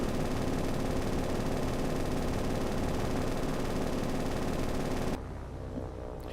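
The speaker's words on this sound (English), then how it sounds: "So here he's going to do a strafing run." Sustained, dense machine-gun fire from an aircraft strafing run in the naval combat game War on the Sea, loud and continuous for about five seconds before cutting to quieter background noise.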